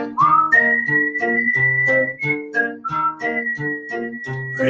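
A person whistles a tune alone, a clear, close melodic line of sustained notes and short phrases over a soft accompaniment of plucked or sung tones.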